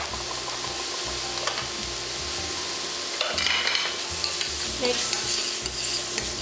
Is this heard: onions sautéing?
yes